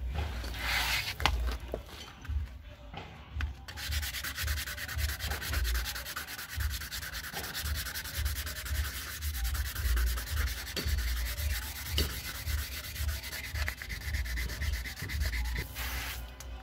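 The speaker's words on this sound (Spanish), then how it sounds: "Salgamos con la lija." Sandpaper scrubs a car brake caliper that is still mounted on the vehicle, in steady back-and-forth strokes for the whole stretch; the abrasive rasp is close and continuous, with no talking.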